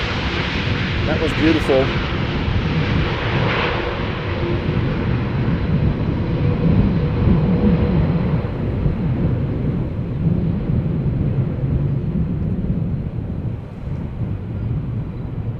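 Jet airliner landing at Schiphol Airport in a gusty crosswind, its engines a loud, steady broadband roar and rumble that lasts throughout and fades slightly toward the end, with people talking over it.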